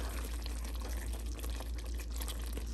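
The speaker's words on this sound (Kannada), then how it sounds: "ಸೊ ಈಗ ಒಂದು ಸ್ವಲ್ಪ ನೀರು ಹಾಕ್ತೀನಿ." Water poured into a pan of chicken gravy made with wings, a steady, low, broadband rush that holds evenly throughout without pauses.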